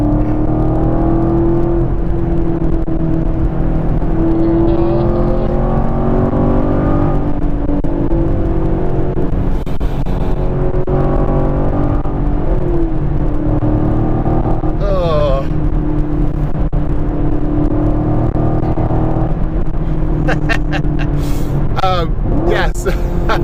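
A 2017 Chevrolet Camaro SS 1LE engine drones and rises in pitch while driving, loud and close inside the car, with people talking over it.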